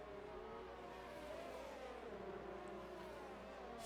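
Racing car engines, a Renault and a Ferrari, in an Xbox racing game, droning steadily with a rising and falling whine as the cars accelerate, continuous and fairly close, with no talking.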